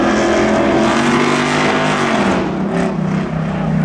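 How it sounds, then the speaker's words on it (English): A loud Ford Mustang drag car roars at close range at New Smyrna Speedway, its engine a steady, heavy growl that dips slightly in pitch toward the end. "That Mustang is real loud."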